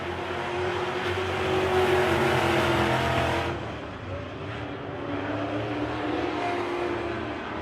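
WISSOTA Midwest Modified race cars roar around a dirt track, a dense, continuous engine drone that swells and fades as cars pass, heard from a distance under faint commentary.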